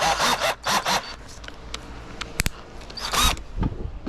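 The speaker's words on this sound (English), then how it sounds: "I'm actually drilling out the bottom hole as well" A drill bores out the bottom hole of a drum shell in a studio workshop, heard as short bursts of whirring and grinding separated by pauses, with a few sharp clicks and knocks.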